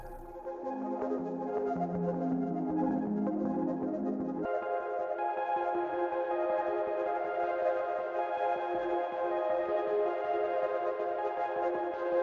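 Shimmering granular grains from the Burns Audio Granular iOS app, a free take on Mutable Instruments Clouds, heard without the underlying synth: a dense, steady tonal wash of layered pitches whose low register drops away partway through, leaving a brighter sustained texture.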